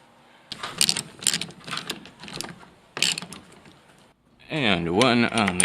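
A 4.5 inch 5/16 lag bolt being driven into a triangle frame during a geodesic dome restoration, heard as repeated ratcheting bursts of a tool in short close pulses, followed by a sustained louder whirring drive at the end.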